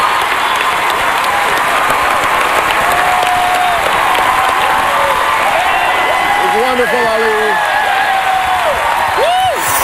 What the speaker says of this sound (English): keep your applause going for John Musker, Ron Clements